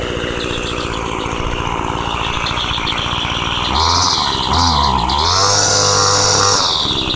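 An old Homelite engine runs loud and close just after a cold start, a rough buzzing idle that rises and wavers as the throttle is worked while it warms up.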